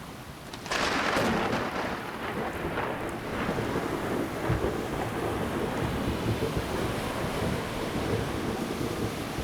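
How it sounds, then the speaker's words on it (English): A deep, continuous thunder rumble from a Roland SPD-SX drum pad sample swells in after a moment and rolls on steadily, broad and loud like a storm effect, with no voices. "I can also add some thunder if I feel like the moment is right."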